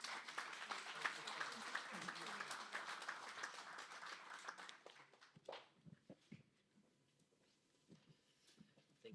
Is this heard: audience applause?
yes